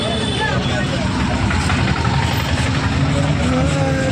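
A vehicle setting off on a trip to Madeshwara hill in Karnataka gives a steady, loud engine rumble throughout, with voices talking over it.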